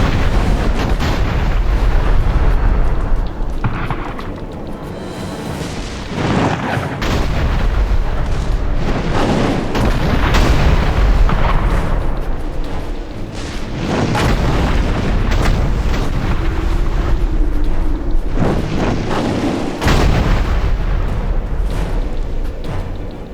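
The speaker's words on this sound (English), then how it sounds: "The Azonite gunners have us sighted. Wait in cover till they pause to reload." Azonite gunners firing artillery in the video game Dungeon Siege 3, a dense, continuous barrage of booming blasts and explosions that stays loud throughout with no pause.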